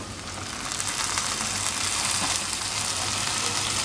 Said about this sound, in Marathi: कांदा जरा परतून घेऊया आपण।